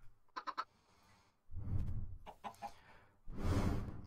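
Chicken in Minecraft giving short clucking calls in two bursts, with quieter gaps and broad rustling noise between them.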